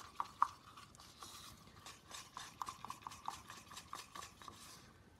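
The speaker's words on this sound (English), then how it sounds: "So that's the whole way I mix my paint." Acrylic paint mixed with gloss medium and pouring medium being stirred in a cup for a feather pour, a quiet run of soft scraping taps and clicks with no talking.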